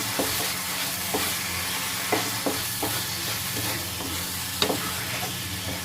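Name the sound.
stirring bread paneer mixture with mayonnaise in a pan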